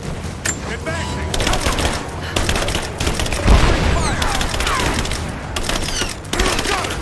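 Rapid gunfire bursts with thuds and impacts in Rise of the Tomb Raider, dense and continuous over the whole stretch, with shouting soldiers in combat.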